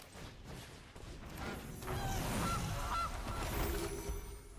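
Gilded Goose card sound effect in the Magic: The Gathering Arena video game: a cartoonish goose honks a few short times over mechanical creaks and a swish, moderately loud with no talk.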